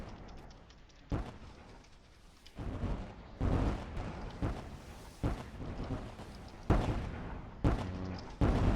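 Heavy naval gunfire from warship deck guns in Roblox Warships, with several loud booming salvos and blasts breaking out at irregular intervals over a rumbling battle background.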